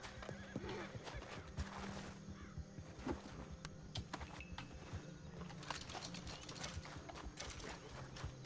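Repeated horse whinnies and snorts ring out over busy, clattering sounds in Red Dead Redemption 2, with hoofbeats and mechanical clicks throughout.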